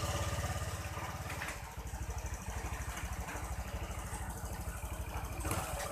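Honda Vario 125 scooter engine after a throttle reset, running close by with a pulsing mid-pitched putter that rises briefly, drops, then picks up again into steady throttle blips, with no talking.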